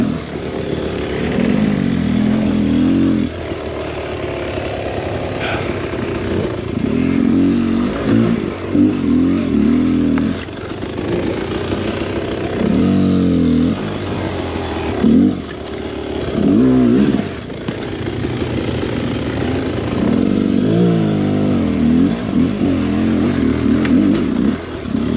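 An enduro motorcycle rides through wet, muddy terrain along a handmade ledge and wall, its engine droning and revving steadily and loudly throughout with clattering bursts as the throttle rises and falls.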